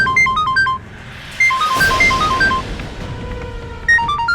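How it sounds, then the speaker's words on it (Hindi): A phone rings with a repeating electronic ringtone melody of bright beeping tones, interrupted briefly by a burst of noise in the middle. "मिसेस पटेल का फोन"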